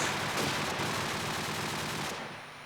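Dense, continuous automatic gunfire from an esports first-person shooter match, loud and unbroken for over two seconds before it fades slightly at the end.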